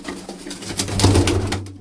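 A pigeon hen in a loft gives a short, close cooing call, a low throaty burst that swells in the middle and fades out.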